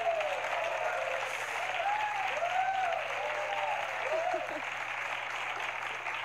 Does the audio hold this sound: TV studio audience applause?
yes